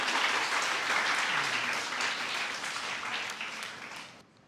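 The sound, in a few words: audience applause welcoming a speaker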